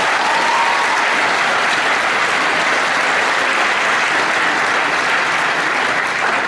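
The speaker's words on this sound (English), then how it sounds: "Can we give her another round of applause, please?" A large audience at a Year 13 graduation ceremony applauds after a performance, a dense, steady wash of many hands clapping at full volume throughout, with no voices standing out.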